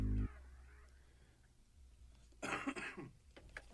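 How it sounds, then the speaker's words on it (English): A single cough bursts out close and fairly loud partway through, following a brief throat-clearing at the start, with quiet room tone around it. "I can't wait for that cough to go away."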